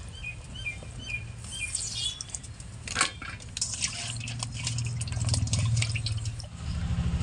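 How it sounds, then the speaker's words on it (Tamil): Fresh chillies are washed in water, with close dripping, splashing and pattering plus a few light clinks of a kitchen vessel, growing steadier toward the end; faint bird chirps sound in the background. "மிளகாய் நல்லா கழுவிக்கிறோம்."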